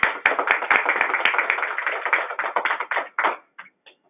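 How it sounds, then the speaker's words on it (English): Applause from participants on a statewide adult education conference call, a fast run of sharp, close claps through a narrow phone-like line that thins out and stops near the end. "a hand of applause"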